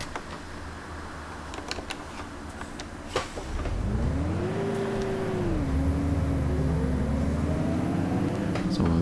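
A city bus in the OMSI 2 simulator pulls away, the engine rising into a loud, sustained acceleration with a gliding pitch that levels off, after a few earlier clicks and clunks.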